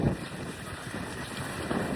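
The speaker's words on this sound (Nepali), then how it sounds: "कस्तो हावा चलेछ।" Steady wind roars and buffets against the microphone at the gate of Ashikaga Flower Park, Japan, a constant low rushing noise with gusts, no voices present.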